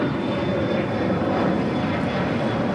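Aircraft departing from runway 25 Left at LAX, a loud, steady, close engine roar that holds at full strength throughout with no other sounds.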